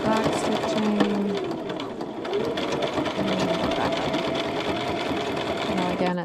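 A sewing machine runs steadily while top-stitching a shirt, a loud continuous mechanical whirr with rapid needle chatter and a few brief pitch changes as the speed shifts.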